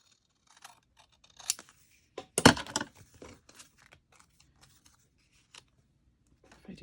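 Scissors snip a paper seed packet tag in a quiet room, giving a few scattered cuts and rustles and then one louder burst of crisp snipping and crinkling, followed by faint handling noises.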